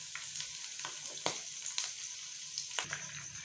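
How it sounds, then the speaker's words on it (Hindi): Marinated chicken hearts fry in hot oil with a steady close sizzle, broken by sharp pops and crackles at irregular moments. "ऑयल गर्म हो रहा है और अब हम लोग इसको फ्राई करते हैं।"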